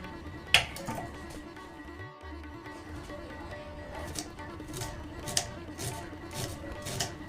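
A knife cuts a single slice of bread into several equal pieces on a board, producing a few sharp, spaced chopping taps over a steady low background hum, close and moderately loud.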